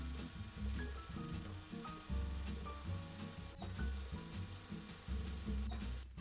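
A domestic sewing machine running in bursts as it stitches a stretched line across a boxer-shorts waistband, a close whirring, ratcheting motor hum starting and pausing in short runs, with no talking.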